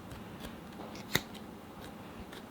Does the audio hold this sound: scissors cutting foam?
yes